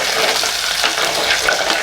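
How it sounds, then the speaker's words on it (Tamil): Fenugreek seeds and small shallots fry in hot oil as the base for a murrel fish curry, giving a loud, dense, continuous crackling sizzle from start to end of a brief stretch. "இப்போ வெந்தயம் நல்லா பொரிஞ்சிடுச்சு."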